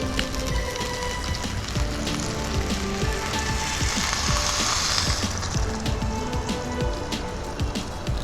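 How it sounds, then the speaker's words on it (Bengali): Rice and red masoor lentils for khichuri sizzle and crackle steadily in a hot pan as hot water is poured in, a dense continuous frying hiss with scattered pops, close and fairly loud with no talk. "এবার দিয়ে দেব গরম জল।"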